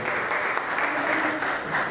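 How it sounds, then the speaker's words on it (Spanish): Steady, dense audience applause for Doctor Borges at a talk on influenza AH1N1 vaccination, continuous and fairly close throughout with no voices over it. "un aplauso para el doctor Borges"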